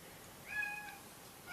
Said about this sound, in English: you hear him go meow, meow?